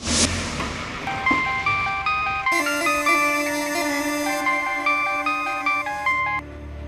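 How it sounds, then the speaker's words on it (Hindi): A melodic phone ringtone trills in repeated bright tonal phrases, loud and close, playing steadily with no voices over it. "हमारे पास एक फोन आया"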